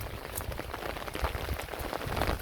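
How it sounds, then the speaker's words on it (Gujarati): Heavy rain patters densely on a hard surface, a steady wash of drops with scattered louder splats, fairly close and with no voices. "વરસાદ ફૂલ થયો."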